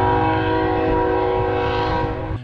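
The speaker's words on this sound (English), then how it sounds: "We got a train yard right behind us." A train rolls through a rail yard behind a hotel, its horn blaring loud and steady for several seconds over the rumble of the passing cars.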